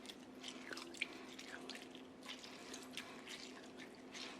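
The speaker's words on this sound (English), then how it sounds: "So we got our lemon juice, and now for the lime juice." Freshly squeezed lime juice drips into a bowl while making shrimp cocktail, a soft, quiet run of small irregular drips and trickles over a faint steady kitchen hum.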